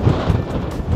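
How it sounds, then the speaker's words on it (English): Strong wind buffets the microphone at a small harbour in the Outer Hebrides, a steady low roar with gusty swells throughout, loud and close, with no voices. "It's really windy."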